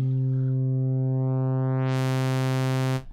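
A Bitwig Phase-4 synthesizer holds a steady sine tone while its timbre sweeps brighter and buzzier toward a sawtooth wave, loud and continuous, then cuts off near the end with no talk.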